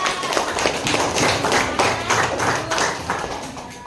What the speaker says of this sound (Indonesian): tepuk tangan untuk Ibra